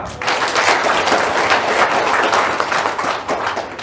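A crowd claps in a dense, steady wash of applause that holds evenly for several seconds, fairly close and loud.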